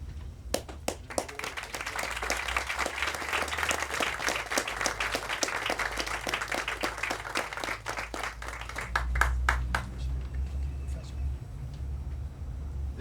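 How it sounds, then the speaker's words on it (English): An audience claps for several seconds, a dense patter of many hands with a few sharp individual claps, fading out near the end as a low rumble and a voice come in. "I would like for all of those who are present today to stand or raise their hands and receive our"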